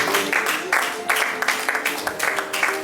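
Sustained crowd applause, dense and fairly loud, with bursts of clapping swelling and easing over a few seconds, voices faintly mixed in.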